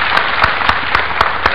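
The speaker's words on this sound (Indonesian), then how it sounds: "beri tepuk tangan untuk Dr. Fahmi." A studio audience at an Indonesian health talk show claps steadily in dense, even applause, loud and close, with faint rhythmic beats pulsing through the clapping.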